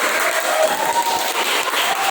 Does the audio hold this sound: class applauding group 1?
yes